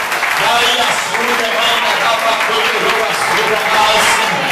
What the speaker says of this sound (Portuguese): Bate palmas.